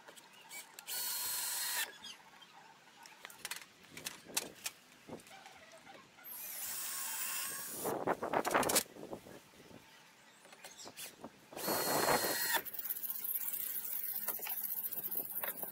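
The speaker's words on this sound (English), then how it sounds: "Now just putting the last two screws in at the top of the brackets" Power drill driving the last screws into the top of porch awning brackets on a workshop shed frame, several short whirring bursts with pauses and clicks between them, close and fairly loud, no talking.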